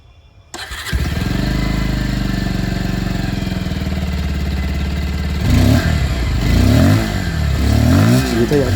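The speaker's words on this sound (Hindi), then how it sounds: "सबसे पहले मैं आप लोगों को यहाँ पर पल्सर 150 की जो आवाज़" A Bajaj Pulsar 150 motorcycle starts up and settles into a loud, steady exhaust rumble close by, then gets revved a few times in quick swells before easing back to idle.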